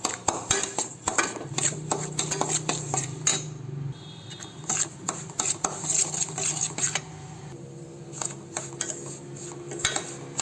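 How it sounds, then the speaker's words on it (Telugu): Fine semolina frying in oil in a kadai on low heat, heard as rapid, loud metallic scraping and clanking of a spoon stirring against the pan, continuous and close. "నూనె పోసి మనం వేయించుకుంటే అది గడ్డగా లేకుండా ఉంటుందన్నమాట."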